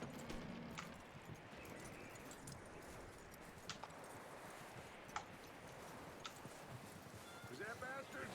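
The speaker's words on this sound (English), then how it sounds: "That looks like a decent horse." Horse hooves clip-clop in the video game Red Dead Redemption 2, a faint, irregular clatter of steps over a soft ambient bed, with speech also present.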